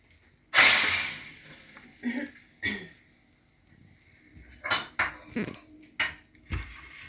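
Popcorn tipped out of a container into a metal tray at home, giving one loud clattering pour followed by several shorter rattling bursts and clinks, close and alone with no talk.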